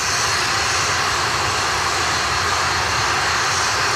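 An Atlas V 531 rocket's RD-180 engine roars steadily during ascent, a dense, continuous broadband rumble heard from a distance with no pauses or voices.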